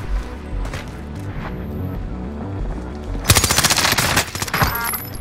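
Incoming automatic gunfire in Call of Duty Warzone Rebirth Resurgence, a sudden loud rapid burst of machine-gun shots striking close by after quieter low rumbling, continuing in sharp clustered volleys.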